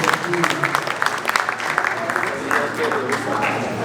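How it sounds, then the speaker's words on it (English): Applause from the audience at the opening ceremony of the Squash Federation of Africa Seniors Championships 2022, a short burst of crowd clapping that sounds moderately loud and fairly even throughout. "Let's give them another big round of applause."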